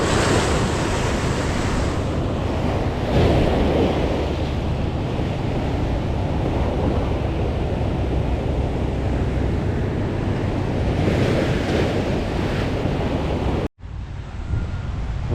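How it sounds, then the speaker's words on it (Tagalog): Strong ocean waves surge continuously onto a beach in Zambales, a loud steady roar of surf mixed with buffeting wind on the microphone, swelling slightly near the end before cutting off abruptly. "Malakas yung alon."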